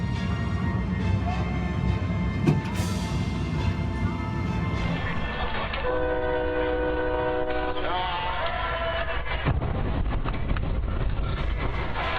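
An approaching train sounds its horn in a long sustained blast over a steady rumble, with a voice talking over the scene.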